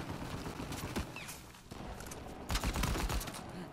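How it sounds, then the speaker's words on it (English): Handgun shots in the video game Uncharted 4 crack out in a dense, uneven burst amid other battle noise, getting louder near the end, with no talking. "I'm using the freaking handgun, damn it!"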